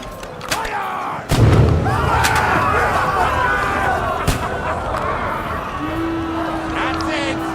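Weapons fire in the medieval video game Kingdom Come Deliverance 2, with a loud heavy thump of a shot and later a sharp crack over a continuous noisy battle din, shouting voices and a steady tone near the end.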